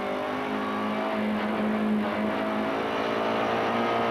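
A Peugeot 306 GTi-6 saloon race car, heard onboard at Snetterton in the 2000 National Saloon Car Championship, drones loudly and steadily as it accelerates, engine tone holding strong throughout with no speech.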